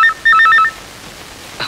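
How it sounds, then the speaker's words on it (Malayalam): A phone ringtone plays a short melodic electronic tune, a quick run of bright repeated beeps that stops after about half a second, with a faint click following. "ഫോൺ"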